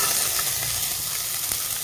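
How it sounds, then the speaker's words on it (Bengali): Ginger and green chili frying in a pan, giving a steady close sizzle with constant hiss and no pauses. "আদা কাঁচা লঙ্কা ভালো করে আমি একটু ভেজে নিব"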